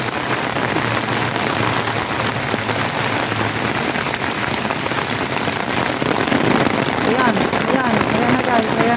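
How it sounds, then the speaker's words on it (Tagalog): Heavy rain hammers steadily on an umbrella canopy, a dense, continuous close-up patter that grows slightly louder toward the end, with faint talk in the background. "Sobrang lakas ng ulan dito"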